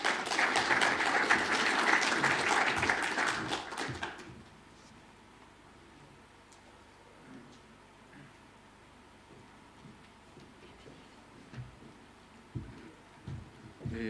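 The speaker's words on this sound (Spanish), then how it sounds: "Así que lo recibamos con un fuerte aplauso" An audience at an international sanitary and environmental engineering congress gives a few seconds of strong, close applause that then fades into quiet room noise with scattered faint knocks.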